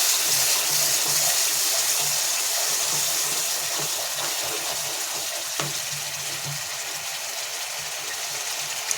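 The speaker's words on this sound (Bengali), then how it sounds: "মশলার বাটি দেওয়া জলটা দিয়ে দেবো, তেলটা যাতে বেরিয়ে যায়।" Water from a spice bowl poured into a cooking pan with oil, a steady hissing, sizzling wash of sound that runs unbroken at moderate loudness with no talk.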